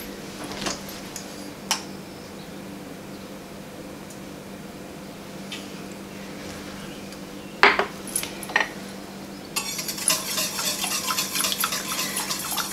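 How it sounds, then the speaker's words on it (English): Homemade enchilada sauce stirred in a metal pot, with occasional clinks and scrapes of a utensil against the pot and a brief clatter of cookware near the end. "So we're gonna give that a stir"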